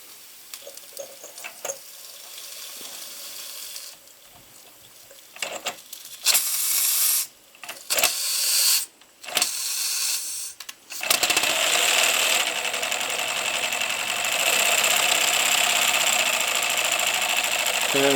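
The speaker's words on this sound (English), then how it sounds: "And so there we go, it's running in reverse." Kit-built model steam locomotive running in reverse, pistons stiff and not yet run in: a steady hissing steam chuff rises and holds, preceded by clicks and bursts of handling, loud and close with no talk.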